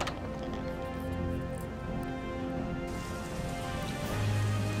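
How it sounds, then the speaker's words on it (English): Steady rain pattering on surfaces in the video game Legacy of Laevus 2, a continuous dense hiss that holds evenly throughout with no voices over it. "And it's still raining."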